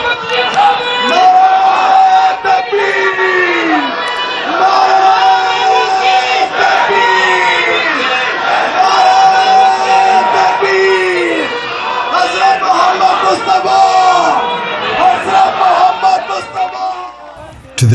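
Loud crowd cheering and chanting on a street as Hazrat Amirul Momineen, the Khalifa of Islam, steps out of his residence in Peace Village, Canada, with continuous roaring voices and repeated rising calls and whoops for the whole stretch.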